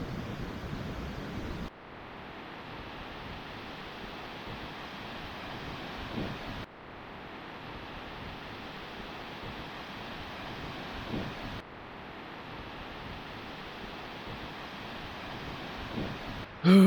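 Strong wind roars through a cold valley at Murrindindi Scenic Reserve, a steady broadband rush buffeting the microphone, broken by a few abrupt cuts.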